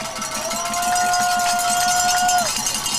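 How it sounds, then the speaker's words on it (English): Football crowd at a high school game in the fourth quarter, a steady roar of cheering with a sustained whistle-like tone over it and faint rhythmic clanking that may be cowbells, loud and continuous throughout. "Crowd's really into it now, Lupe."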